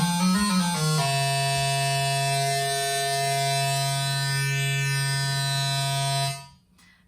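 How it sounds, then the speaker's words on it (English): Synthesizer playing a pulse-width-modulated square-like wave, a buzzy, bright sustained tone that glides briefly at the start, then holds a steady low pitch with harmonics slowly shifting before cutting off abruptly. "So similar to a square wave, and you can have the pulse width modulation"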